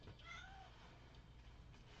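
A cat lets out a quick high meow near the start, then continues with soft murmuring purring sounds over a constant low background hum.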